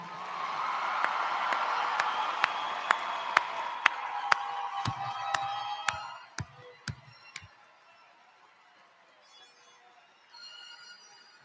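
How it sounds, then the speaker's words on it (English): A graduation ceremony crowd claps for the graduates: a broad wash of applause that fades after about six seconds, punctuated by sharp, regular taps or clicks that continue into near quiet. "Let's have one more round of applause for our graduates."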